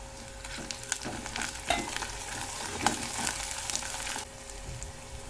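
Green chili paste sizzles and fries in hot oil, a steady close crackle with scraping stir strokes that fades near the end.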